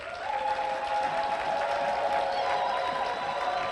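A church congregation at a Sunday service applauds for their bishop with steady, dense clapping and some cheering that fills the room without pause.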